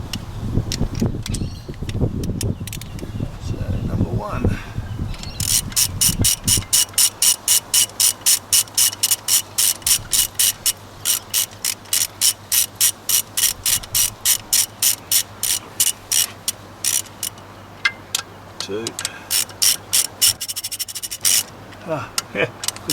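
Torque wrench tightening cylinder head bolts on a Toyota Prado 90 series 1KZ-TE engine, giving rapid, loud, close ratcheting clicks in steady repeated strokes after some earlier handling noise.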